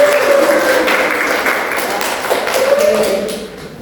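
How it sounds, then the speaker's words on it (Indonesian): Scattered clapping from a group at a university teaching session, moderately loud and steady, tapering off toward the end, with faint murmuring underneath. "Beri tepuk tangan buat Cakra."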